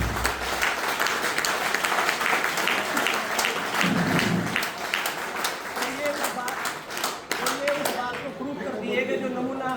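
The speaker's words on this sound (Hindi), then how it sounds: "एक बार जोरदार तालियां।" Heavy, sustained applause at a celebration of a business achievement award; the clapping is loud and continuous, thinning out in the last seconds as voices come through.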